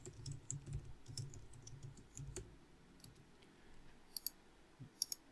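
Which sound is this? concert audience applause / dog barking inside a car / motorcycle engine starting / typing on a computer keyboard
typing on a computer keyboard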